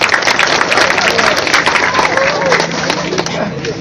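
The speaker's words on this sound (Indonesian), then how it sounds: "Oke, tepuk tangan dulu." Sustained applause from an audience at a school gathering during a visit by the provincial education head in NTT, Indonesia, a dense continuous clapping wash with crowd murmur throughout, fairly loud and steady.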